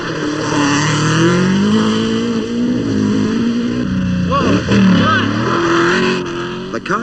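A 1980 RAC Rally car revs hard and pulls away from the stage start in the Yorkshire forests, its engine note loud, close and climbing steadily. Spectators call out over it.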